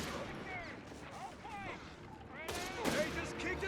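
Carbine gunfire in Company of Heroes 3, short bursts of rapid shots in a battle with louder sharp cracks near the end, heard under a caster talking.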